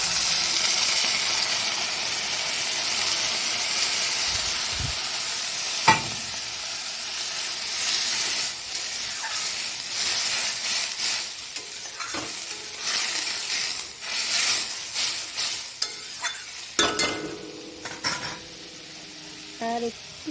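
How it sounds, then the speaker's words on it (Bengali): Water poured into egg curry masala frying in oil in a home kitchen, a steady loud sizzle and steam hiss with occasional stirring clatter, quieting as the liquid settles; background voice present. "আমি এবারে একটু জল দিয়ে দিই।"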